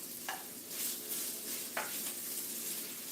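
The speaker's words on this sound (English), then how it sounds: "I'm going to add in the chorizo." Chorizo sizzles in a pan with onions that have been sautéing, giving a steady soft frying hiss with a couple of brief stirring scrapes, close and fairly quiet, with no talking.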